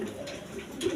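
Pigeons coo on a farm, a pair of large black Indian Bombay pigeons among them, with soft repeated cooing close by and a slightly louder call near the end over steady background hum.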